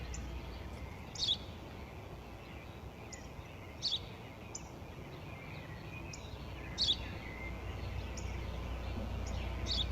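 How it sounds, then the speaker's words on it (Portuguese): Birds singing outdoors, a few short, bright chirps repeating at intervals over a faint, steady background hum, distant and quiet. "Eu já te disse, pai, é um pássaro."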